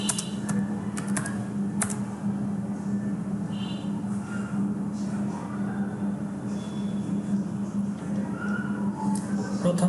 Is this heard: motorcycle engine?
no